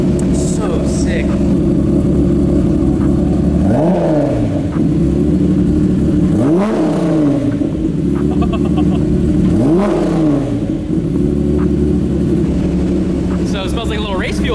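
A Spoon Honda NSX-R with a turbo engine, cruising city streets, drones loudly close by and rises through three rev sweeps, each climbing then dropping back, with a faint turbo whistle over the steady engine hum.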